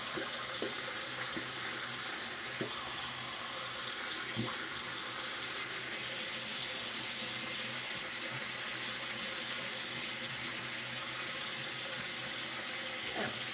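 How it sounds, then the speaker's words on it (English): Tap water runs steadily into a sink for rinsing after a wet shave, a continuous close hiss and splash with a few brief knocks, with no talking. "All right, so let's rinse."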